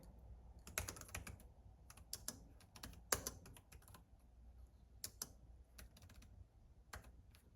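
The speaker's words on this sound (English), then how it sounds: "Doesn't seem to respond always when you hit a keystroke if you go really quick." Typing on a Nillkin magnetic bumper keyboard case for an iPad gives quick, uneven bursts of soft plastic key clicks, close and fairly quiet.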